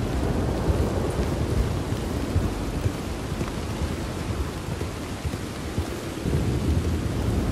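A thunderstorm with rain in the video game Red Dead Redemption 2: dense, steady rainfall under a continuous low rumble of thunder, loud and unbroken for over seven seconds with no voices.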